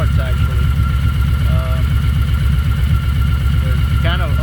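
A Kawasaki Voyager motorcycle idles close by with a loud, even, low throbbing rumble that holds steady throughout, while someone talks over the engine.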